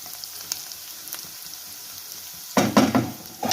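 Onions frying in a pan for paneer rice, a quiet steady sizzle with faint stirring clicks that swells into louder, closer bursts of spattering and stirring near the end.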